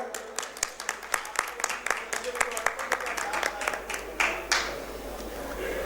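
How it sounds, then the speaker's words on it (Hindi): An audience at a Hindi kavi sammelan during a Jain Gaj Rath festival claps to welcome Mukesh, a run of distinct, fairly close hand claps that thickens briefly before fading. "विशेष स्वागत होना चाहिए तालियों से मुकेश भाई का"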